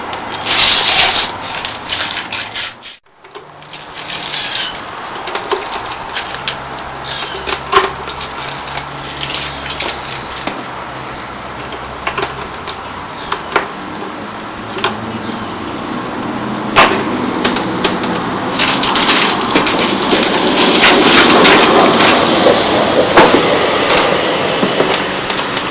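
Masking tape being peeled and rubbed off a painted costume helmet, loud close scratchy rubbing and tearing in uneven bursts that runs throughout with no speech.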